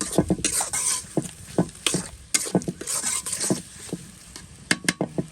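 Ginger and garlic fry in a pan, with a steady sizzle beneath repeated scraping stirs and clinks of a utensil against the pan, close and busy with irregular rhythm.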